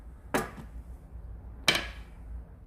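A half-size hammer strikes a thick square dent punch twice, each a crisp metallic tap with a short ringing tail, spaced about a second apart in a quiet room.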